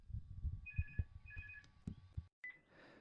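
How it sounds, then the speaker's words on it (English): A telephone rings in short double trills over low muffled bumps and handling noise, fairly quiet and ending abruptly after a few seconds. "the phone rang"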